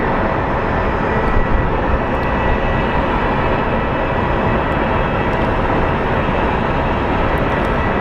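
A Southwest Airlines jet at Phoenix Sky Harbor airport produces a loud, continuous roar of jet engines. The broadband rumble stays steady and close throughout.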